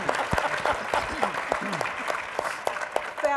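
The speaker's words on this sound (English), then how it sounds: "Can we give them another round of applause?" Applause at the 2013 NCA Annual Convention opening session, scattered claps rising under a speaker's ongoing talk and staying fairly subdued throughout.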